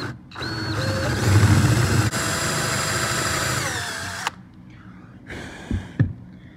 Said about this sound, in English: I'm gonna drill out a larger hole